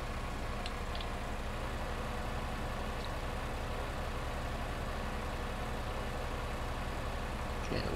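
A tractor engine in Farming Simulator 2015 idles steadily with its parking brake on, a low, even diesel rumble held for several seconds with no speech over it.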